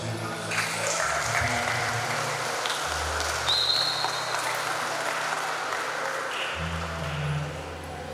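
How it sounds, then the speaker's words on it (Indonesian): An audience applauds steadily at an event for about eight seconds. The clapping is dense and loud throughout, with low background tones underneath. "mari kita berikan aplaus"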